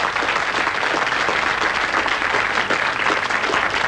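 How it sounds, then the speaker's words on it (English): A studio audience at a school quiz show gives a contestant a steady, dense round of applause, loud and continuous throughout. "Give him a round of applause."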